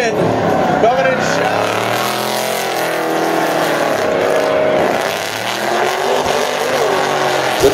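Drift cars battling in a Formula D Pro Am tandem run: loud, continuous engine roar with rising and falling pitch sweeps as throttle is worked, close and dense throughout, with a voice faintly underneath.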